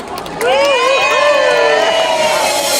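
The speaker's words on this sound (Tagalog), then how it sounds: "Palakpak." Loud crowd cheering and whooping that starts suddenly after a short pause and holds steady, with children's shouts over it, at a fan meet-and-greet announcing a Bring Me game.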